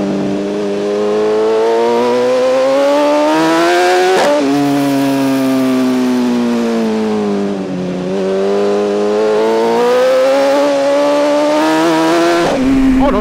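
A BMW S1000 RR Pack M sport motorcycle revs loudly and close, its engine pitch climbing steadily through long pulls, dropping sharply at gear changes around four and twelve seconds, with no talking over it.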